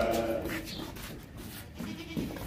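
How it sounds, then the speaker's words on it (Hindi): A healthy four-eared sacrificial goat at a Qurbani livestock sale bleats loudly near the start, the call fading into busy market background noise. "कुर्बानी वाला ज़बरदस्त बकरा है"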